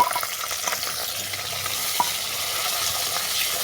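Chopped onion frying in hot mustard oil with bay leaf and dried red chillies, a steady close sizzle throughout with a brief clink of stirring midway and no talk.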